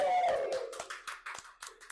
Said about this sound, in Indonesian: Ya, kita tepuk tangan dulu ya biar semangat.